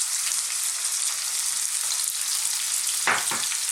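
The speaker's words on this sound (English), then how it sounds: "Let's start off by dropping in our onions" Onions hit hot sunflower oil for a vegetable chili and sizzle in a steady, bright hiss, with a brief clatter near the end and no talking.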